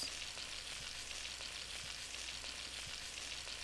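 Garlic butter shrimp with parsley and lemon juice fry in a pan, giving a quiet, steady sizzle with faint stirring clicks.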